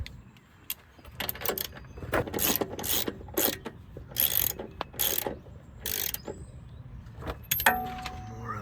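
A ratchet snugs up steering bolts on a 2002 Ford F350, with bursts of rapid metallic clicking and clanks of tools handled close by, alone without talk.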